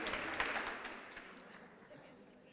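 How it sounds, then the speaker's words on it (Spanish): Audience applause for Juana at a talk in Oviedo, a burst of clapping that starts fairly loud and fades gradually over a couple of seconds, with no voices over it. "Un aplauso para Juana."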